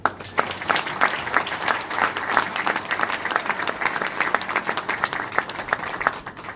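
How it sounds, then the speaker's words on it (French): An audience at the Sultani Makutano event in Kinshasa claps for Didier Claes, with distinct individual claps standing out in a moderately dense, even round that continues steadily from start to finish. "j'ai trouvé que les applaudissements n'étaient pas assez nourris"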